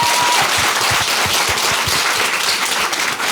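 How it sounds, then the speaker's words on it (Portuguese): A room full of people applauding, a dense steady patter of many hands clapping at once, loud and continuous. "acho que o Rodrigo merece uma salva de palmas"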